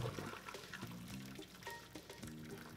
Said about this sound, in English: Discard the water